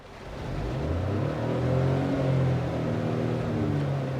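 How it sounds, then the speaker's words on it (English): Inside the cabin of a 2022 Citroen C3 turbo-petrol, the engine builds to a steady low hum and drone that rises slightly, then holds, moderately loud and muffled with no talking. "listen to the engine now"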